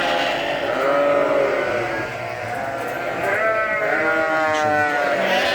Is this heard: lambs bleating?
yes